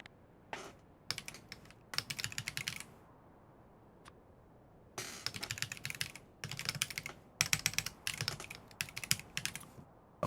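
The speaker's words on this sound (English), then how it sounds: "I have an American keyboard, and it's very hard for me to type combining characters" Bursts of clicky typing on an American computer keyboard, with rapid close keystrokes in irregular runs separated by short quiet pauses and a few isolated single taps.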